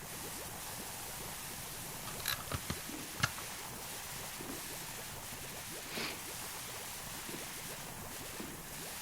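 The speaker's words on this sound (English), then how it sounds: "Let's go back to spraying here" A pressure washer sprays steadily in PowerWash Simulator 2, a continuous broad hiss holding through the whole stretch with a few brief clicks and bumps near the start and middle, no talking.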